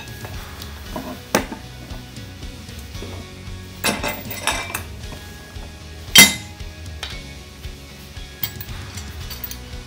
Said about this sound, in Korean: 가장 먼저 볼트에 와셔 하나 결합해 주시고요